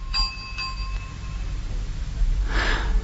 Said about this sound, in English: So, Watchful, the porter, rang the bell.